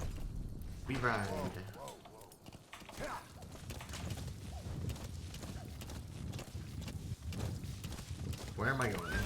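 Hoofbeats of a horse being ridden in the Metal Gear Solid 5 video game, rhythmic clip-clop steps at close range, heard under frequent talking by a man.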